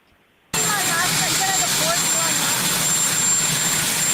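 Airplane flying overhead, a loud broad jet roar that starts abruptly and holds steady, with a thin high whine and a voice talking underneath.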